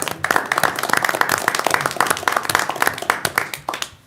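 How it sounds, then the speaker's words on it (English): A council meeting audience gives veterans a round of applause: many hands clapping in a full, sustained burst for about four seconds, then tapering off quickly at the end. "I just ask that everybody give them a round of applause for what they do"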